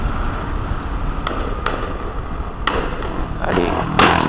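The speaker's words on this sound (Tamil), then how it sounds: "வெடிலாம் போடுறாங்க." Royal Enfield Bullet exhaust popping and backfiring after the rider revs it and flicks the kill switch off, several sharp cracks spaced irregularly over steady road noise, the last ones louder and closer.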